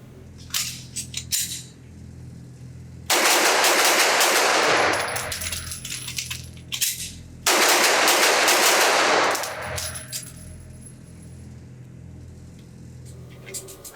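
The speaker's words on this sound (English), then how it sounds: "I'm just going to try to shoot this thing fast, change the magazine fast, get the gun back in action" A Smith & Wesson SD9 VE pistol is fired rapidly at a range in two long bursts of loud, overlapping blasts, separated by quieter stretches of scattered clicks and handling noise.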